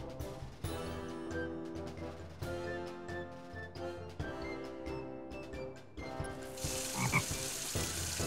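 A cartoon frog in the Shrek PS2 funfair game croaks repeatedly in loud, rhythmic bursts, ending with a hiss as it inflates.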